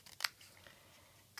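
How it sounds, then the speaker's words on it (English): Scissors poking through and snipping paper, one sharp close snip near the start and another at the very end over faint quiet background. "poke the middle out, if I can get my scissors through"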